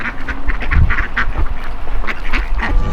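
A flock of ducks being fed by people quacks loudly and continuously nearby, overlapping calls stacking into a busy chorus.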